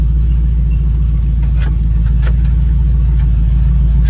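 A 1981 Pontiac Bonneville Safari wagon with a big block engine drives along, its steady, loud low rumble filling the cabin continuously with faint road noise and no talking.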